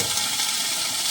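Mini wontons frying in very hot oil: a bright, dense, continuous sizzle and crackle, close and steady throughout the brief moment.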